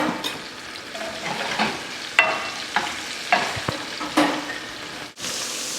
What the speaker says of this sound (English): The next step is to add the mushrooms and saute with salt